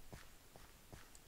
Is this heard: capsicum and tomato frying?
no